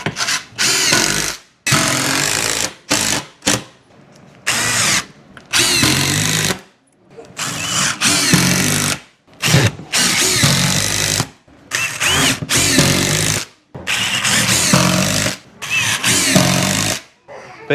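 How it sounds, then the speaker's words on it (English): A power drill drives screws through shelf boards into wooden barn studs, running in repeated loud, close bursts of whirring of varying length separated by short pauses. "So I'm screwing it into every stud in the back."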